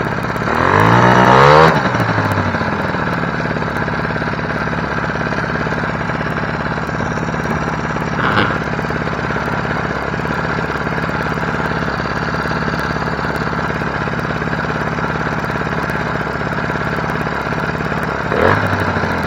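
A 1986 Honda Spree scooter, left sitting outside for 25 years, runs on its small engine with a loud, steady buzzing idle that holds throughout, a brief rev at the start and a couple of short surges later.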